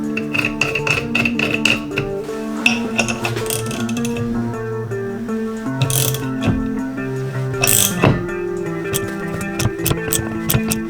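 A 100mm puller works on the differential flange of a BMW E46 M3, making a close run of metallic ratchet clicks, creaks and clanks with sharp pings as the flange loosens. No one talks.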